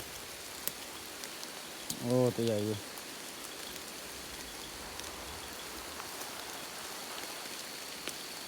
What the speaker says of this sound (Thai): โอ้ฝนตกพี่น้อย